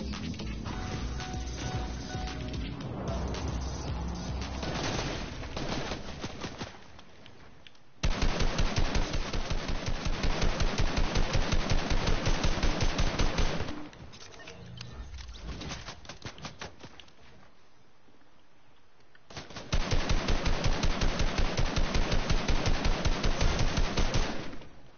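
Rapid bursts of automatic gunfire from a shooter video game, loud dense volleys that cut in and out in long stretches with quieter gaps between them and no talk.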